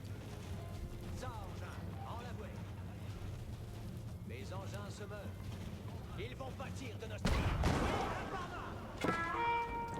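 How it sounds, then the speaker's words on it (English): Cannon fire in Age of Empires IV during the French campaign battle of Formigny (1450), with one heavy boom and a second blast standing out over busy battle noise while someone talks. "These cannons are scary things"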